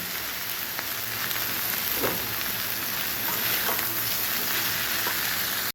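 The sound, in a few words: frying bitter gourd (karela) in a pan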